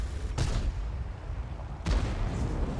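Two booming tank cannon shots in World of Tanks, the T110E4 firing with the round ricocheting off an enemy; sharp, loud reports about a second and a half apart over a low rumbling background, with no speech.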